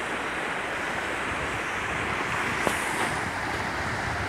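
The Hankavan river near the village of Hankavan in Armenia rushes steadily, a dense, loud, broadband roar of flowing water that stays constant throughout with no voices.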